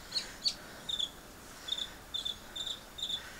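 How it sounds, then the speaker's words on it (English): Mockingbird singing from the top of an Italian cypress in a garden on a gray May day, repeated high chirps and short phrases at a moderate distance over faint outdoor background noise. "we got a noisy mockingbird on top of the pointy tree"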